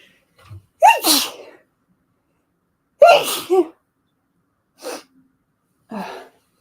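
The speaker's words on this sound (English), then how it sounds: "I have to sneeze." Four sneezes spaced apart, the first two loud and sharp with a breathy build-up, the last two shorter and softer, with silence between.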